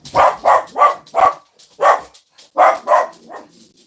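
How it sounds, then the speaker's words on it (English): Neighborhood dogs barking in the early morning, a quick run of about eight sharp, close barks in uneven bursts with short gaps, standing alone without talk. "The dogs are still dogs."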